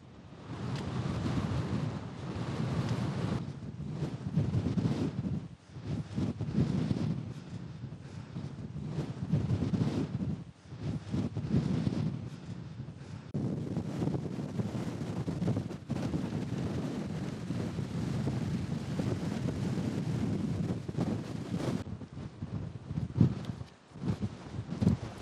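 Savage wind buffeting a microphone on a frozen mountain, a loud, roaring rush that surges and dips in gusts throughout, with brief lulls and no voices.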